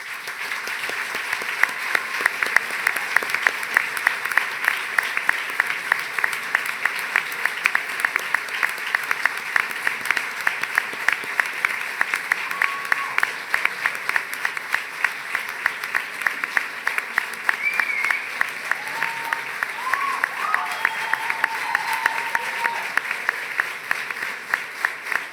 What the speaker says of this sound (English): I want you to give them a huge round of applause to show just how grateful you are for what they have done for you.